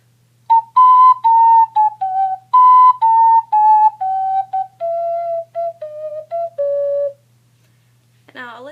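Ocarina plays a longer legato melodic line from the Tokyo Ghoul theme in clear, close, steady tones with a gently descending contour, followed by a brief bit of speech at the end.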